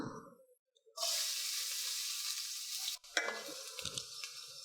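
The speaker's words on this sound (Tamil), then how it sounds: "எண்ணெய் சூடாகிடுச்சு, நம்ம வெங்காயம் சேர்த்துக்கலாம்." Onions hit hot oil with a sudden loud sizzle that crackles on steadily while cooking masala poori filling, then a brief stir and the frying continues with spitting pops.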